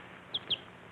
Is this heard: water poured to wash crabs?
no